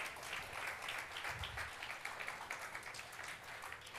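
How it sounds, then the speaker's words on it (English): Audience applause for volunteers called onstage at a summit session, a fairly quiet, steady round of clapping from a modest crowd lasting a few seconds. "let's give them a round of applause."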